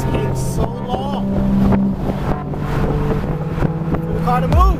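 A Ford Mustang accelerating slowly: a close, continuous engine drone with humming tones that bend and rise in places, wind buffeting the microphone throughout, and a sharper surge near the end.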